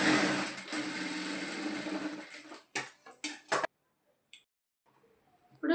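A sewing machine stitches in reverse along a piping blouse with a steady, close mechanical whir for a few seconds, then stops, leaving scattered clicks and light handling noises.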